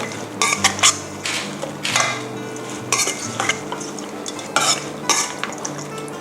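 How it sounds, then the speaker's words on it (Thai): A glass noodle salad (yam woon sen) with dried shrimp, coriander, spring onion and Chinese celery is stirred and tossed in a bowl, giving close, scraping, clattering bursts of utensils at an uneven rhythm. "ทีนี้ก็คนให้เข้ากันเป็นครั้งสุดท้ายนะคะ"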